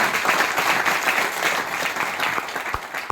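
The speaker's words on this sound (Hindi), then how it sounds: "तो सर के लिए जोरदार तालियां साथियों, जोरदार तालियां।" Loud, dense applause from an audience at a Safe Shop business seminar in India, steady and continuous across the whole stretch with no voices over it.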